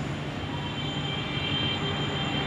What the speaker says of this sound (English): The Tripler now cleared for takeoff